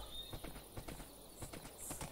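Horse hooves clip-clop on the ground in the video game Minecraft, a faint, uneven series of soft thuds with a steady hiss behind them.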